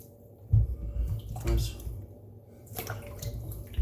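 Oranges being rubbed and rinsed in water in a bowl, with soft splashing and sloshing in a few separate bursts, fairly close and gentle.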